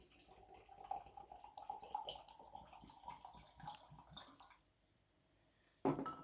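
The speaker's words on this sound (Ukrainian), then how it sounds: "Виливаємо 100 грам сюди спирту." Spirit alcohol pours and splashes steadily into a container for several seconds, then trails off, followed by a sharp clink near the end.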